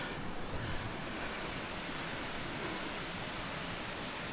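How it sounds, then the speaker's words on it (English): Rushing water from a waterfall beside old mine workings at Force Crag Mine on a frozen winter mountain, a steady broadband roar filling the whole clip with no talk over it. "Just come over to the waterfall for a better look."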